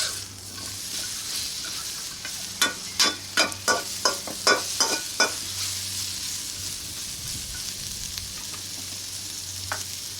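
Turkey and cabbage stir-frying in a wok over a roaring rocket stove, with a string of quick tossing clatters over a constant hot sizzle before it settles back to a steady hiss.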